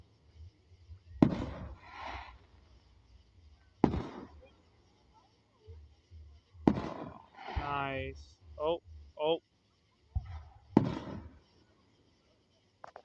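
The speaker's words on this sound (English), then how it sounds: "That was 4th of July fireworks for you." Fourth of July fireworks explode in loud, sharp booms, about five bursts spread several seconds apart, with brief crackling tails and a person's short exclamations between them.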